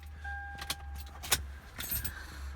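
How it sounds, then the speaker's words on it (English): Car key pulled from the ignition of a 2015 Toyota 4Runner TRD Pro, a few light metallic jingles and clicks close by in a quiet cabin, with a steady low hum underneath and a faint chime tone early on. "Let me just take the key out of the ignition here."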